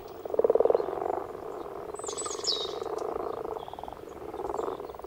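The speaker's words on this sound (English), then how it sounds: "A dangerous time for grass frogs." Grass frogs croak in a dense, continuous chorus of overlapping rattling calls, with a louder burst near the start and steady croaking carrying throughout, nearby and alone without voices.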